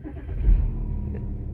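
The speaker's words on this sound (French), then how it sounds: "Je vais démarrer, donc il faut appuyer sur l'embrayage et appuyer sur la clé." An Audi A4 engine cranks and catches, giving a short low rumble that swells and then settles into a steady idle, close by inside the car.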